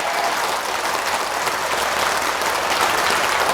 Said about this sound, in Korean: 이 박수 소리가 뜨거운 관계로